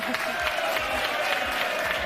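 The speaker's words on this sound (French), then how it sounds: "Applaudissements" Studio audience applauding contestants Stéphanie and Nicolas on the France 2 game show Mot de Passe, a steady dense wash of clapping with a host's voice briefly over it.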